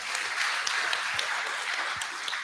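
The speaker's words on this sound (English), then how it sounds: "Can we all give a round of applause and a big ups, big mihi to our whānau here at Manaki for hosting us today." An audience at the Bloc'Party Aotearoa 2022 event at Manaki applauds in a steady, even wash of clapping with a few sharper individual claps standing out.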